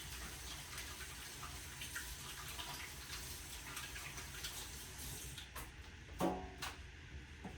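Running tap water splashes steadily as soapy hands are rinsed under a faucet in a home kitchen, a continuous near wash with a few brief sharper splashes toward the end.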